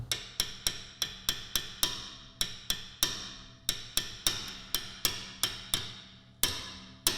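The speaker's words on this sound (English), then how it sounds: "now we can go ahead and slacken off our locking nut" A steady run of sharp metallic clicks, evenly spaced and close, as a locking nut on an Audi Q7 front tie rod is slackened off with a tool; no voices.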